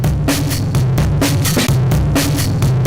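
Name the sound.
Power Curve Distortion effect from Distortion Noise Box plugin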